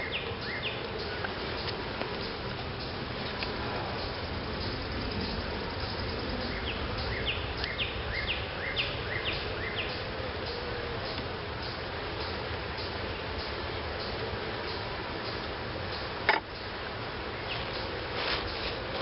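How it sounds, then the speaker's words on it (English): A dense, steady buzz of many honeybees swarms close by around an open hive during an inspection, unbroken throughout, with a brief knock near the end. "Covered in bees, but not as bad."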